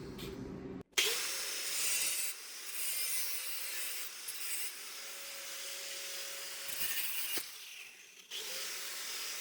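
A shallow cut into the steel sill panel of a 1958 Triumph TR3, a steady grinding whine held for several seconds with brief breaks and no talk.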